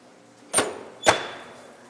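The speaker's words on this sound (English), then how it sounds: "Close the oven door." An oven door in a home kitchen is pushed shut, making two sharp, close metallic knocks about half a second apart, each with a short ringing decay, against a quiet background.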